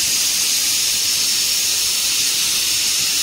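A pressure cooker of boiled eggs vents with its whistle weight lifted off. Steam hisses in one loud, steady, unbroken rush from start to finish.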